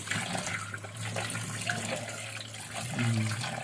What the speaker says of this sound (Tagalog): Ato na siyang hugasan guys.